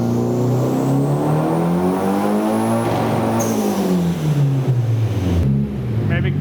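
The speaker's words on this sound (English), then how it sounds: "This turbo hits a lot more efficient than I thought it would." A turbocharged Nissan 240SX engine revs hard and loud up close, its pitch climbing steadily and then dropping sharply before it pulls up again.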